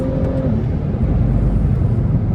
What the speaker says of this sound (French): on va se faire une autre petite accel. On va chercher les 7000 du N55 qui est ultra efficace